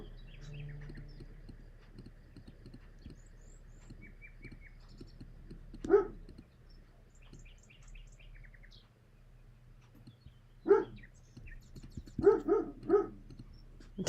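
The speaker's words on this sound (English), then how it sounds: "You can hear the dog barking." A dog barks in several short bursts, a single bark, then a pair, then a quick run of three, fairly quiet against a faint background with bird chirps.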